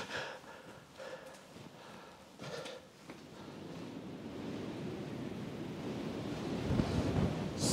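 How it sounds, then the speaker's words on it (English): Strong wind buffeting the microphone on top of the walls of Old Beaupre Castle in South Wales, a broad rushing roar that swells steadily louder over several seconds. "the wind has really picked up"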